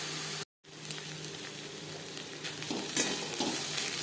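Ghetkol leaf paste cooks in a pan over a high-to-medium flame, giving a steady close sizzle and frying hiss broken by a brief silent gap near the start, with faint stirring scrapes afterward.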